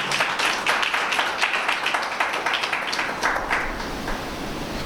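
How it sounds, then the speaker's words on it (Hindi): A church congregation claps enthusiastically in praise, a fairly close, lively patter of many hands with audible individual claps that fades slightly toward the end. "जोरदार तालियां खुदावंद यीशु मसीह के लिए।"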